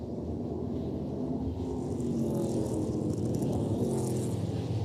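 ARCA Menards Series stock race cars at Salem Speedway, a continuous engine roar with rising and falling pitch as cars run down the backstretch, steady and moderately distant.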